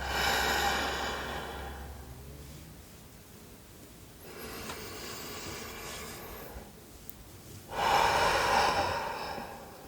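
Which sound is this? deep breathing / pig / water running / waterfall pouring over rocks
deep breathing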